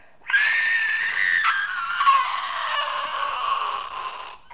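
A man lets out a sustained high-pitched scream, trying for a girlish shriek; loud, close and alone, lasting about four seconds with a slight waver before cutting off.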